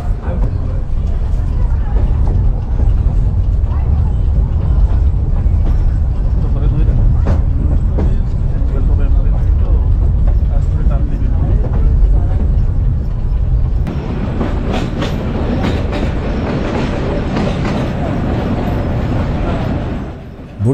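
Burimari Commuter, a meter gauge local train run by Bangladesh Railway, rumbles steadily and loudly close by, with dense low-frequency wheel and carriage noise throughout and a shift in tone partway through as the ride continues.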